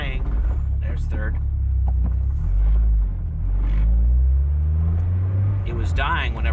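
An 80s Nugget car shifted into third gear, its engine droning and revving up in a low, steady rumble that rises and falls, with someone talking over it at times.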